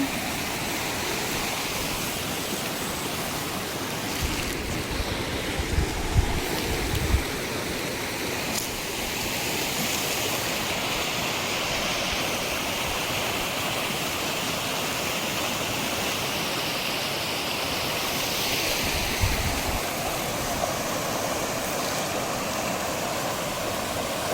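Flowing water rushes steadily near a farm, a continuous broadband roar heard close up throughout, with a few faint low thumps and no talking.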